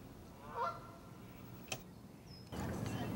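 A goose honks in a lagoon, a single distant call early on, followed by a faint click and a rise in background noise near the end.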